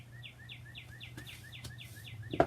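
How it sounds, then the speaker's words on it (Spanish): Small birds chirp in a quick, regular series of short rising notes, fairly clear over a low steady hum, ending with a sharp knock. "Oye los pajaritos, qué lindos."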